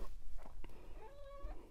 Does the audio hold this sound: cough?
no